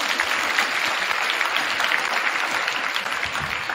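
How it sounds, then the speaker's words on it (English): A high school assembly audience breaks into steady, even applause in a gym-like hall at a Wish Week launch, with continuous clapping from many hands and no talk over it. "So let's give them a round of applause."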